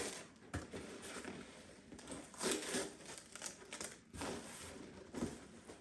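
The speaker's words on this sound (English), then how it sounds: "I have bought some Trachycarpus hybrid seedlings, and I shall open them now" Cardboard and packing material around Trachycarpus hybrid palm seedlings being handled and opened, with close crinkling, rustling and tearing in irregular bursts and no talk.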